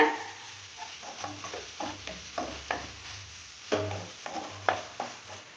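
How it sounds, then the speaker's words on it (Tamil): Fish masala sautéing in oil in a pan for fish chukka, with repeated spoon-scraping stirs over a low sizzle, close and moderately quiet, no talking. "நல்லா வணக்கிக்கோங்க. எண்ணெய் பத்தலாட்டி இன்னும் கூட கொஞ்சம் எண்ணெய் ஊற்றிக்கோங்க."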